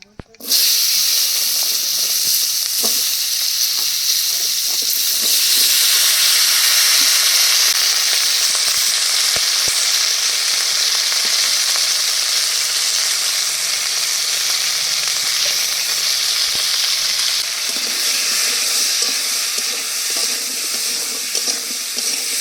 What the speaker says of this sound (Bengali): প্রথমে সজনার ডাটা আর আলু একসাথে ভেজে নেবো